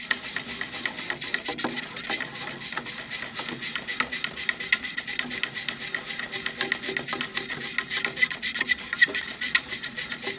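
A chemical reaction mixture containing metal shavings is stirred in a lab container, producing a close, continuous gritty scraping and rasping with a quick, irregular rhythm and no voices.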